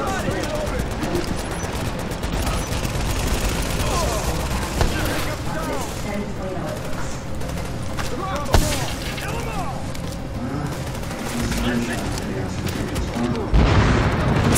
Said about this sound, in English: Crap, I'm getting shot from everywhere.